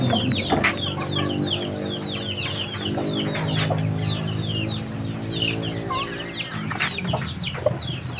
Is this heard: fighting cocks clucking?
yes